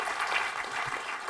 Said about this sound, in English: the whole room just clapped